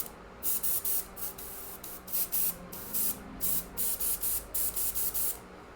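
A budget Harbor Freight airbrush sprays base coat in short, regular hissing bursts, about a dozen quick puffs close to the mic and otherwise quiet.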